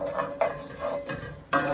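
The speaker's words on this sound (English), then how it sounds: "I'm going to take my wooden spatula. Just gonna saute that a little bit." Garlic sautés in avocado oil while a wooden spatula stirs it, giving a few scraping strokes against the pan over a soft, close sizzle.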